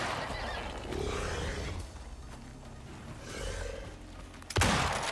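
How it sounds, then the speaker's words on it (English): A horse neighs in the co-op survival video game Icarus, two drawn-out whinnies rising over a noisy outdoor game ambience, followed by a sharp, loud gunshot near the end. "Oh, the horse is after me."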